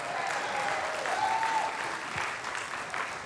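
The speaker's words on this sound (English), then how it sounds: "Let's give Trey a nice round of applause." A fairly faint, steady round of audience applause from a small gathering welcoming a volunteer, a continuous wash of clapping with no voices on top.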